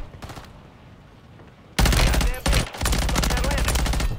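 Gunfire in the Call of Duty Warzone video game: a brief burst, then a loud sustained stretch of dense automatic fire with a short break, heard close up.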